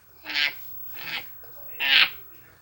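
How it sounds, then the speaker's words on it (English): A duck quacks three times, bright nasal calls spaced roughly half a second to a second apart, clear and close, played in a kids' farm animal sound game. "It's a duck."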